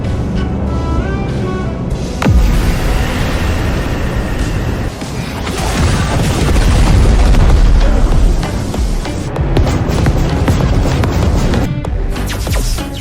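A massed fleet barrage with every weapon firing at once, a dense, loud, unbroken roar of blasts and booms that surges and swells throughout.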